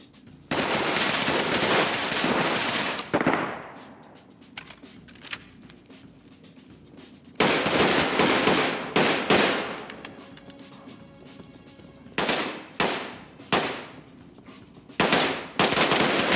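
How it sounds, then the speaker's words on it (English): Gunfire from the tactical shooter game Ready Or Not crackles in loud automatic bursts, with long sustained volleys followed by shorter sharp salvos and brief quieter gaps between them. "Bullets flying through the walls and everything."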